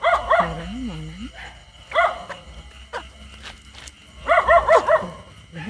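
Dog barking outdoors at night beside a fishing spot, several bursts of sharp barks with a whimpering yelp between them, fairly close and clear against quiet night background.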